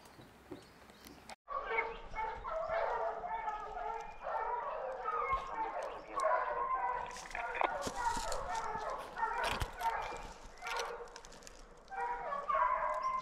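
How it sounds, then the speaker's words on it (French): Several hunting dogs bay and bark in overlapping, continuous yelping during a hunt with hounds in the Basque country, with a few sharp knocks and someone speaking now and then. "Je lâche 8 chiens."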